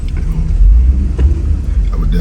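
A Mercedes R129 SL500 cruises on an expressway, its engine and road noise forming a loud, steady low rumble with wind buffeting, while someone talks over it.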